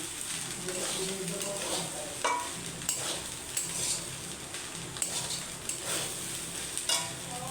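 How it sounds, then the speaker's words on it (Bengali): Scrambled egg bhujia stirred into spiced rice in a pan, a continuous soft sizzle with a spoon scraping and tapping at a steady rhythm throughout. "আমি ডিম ভুজিয়াটা ঢেলে দেব দিয়ে মিক্সড করে দেব"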